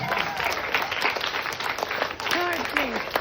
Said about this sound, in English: Clap the hands for her.